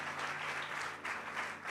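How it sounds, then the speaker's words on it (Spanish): Church congregation applauding together during a Spanish-language sermon, a steady, dense wash of many hands clapping at moderate volume throughout, with no speech over it. "¿Cuántos pueden dar un fuerte aplauso?"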